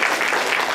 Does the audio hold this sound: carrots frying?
no